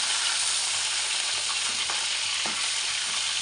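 Fish sizzles steadily in hot oil in a home kitchen pan, a dense continuous frying hiss with a few faint stirring clinks, close and alone with no talk.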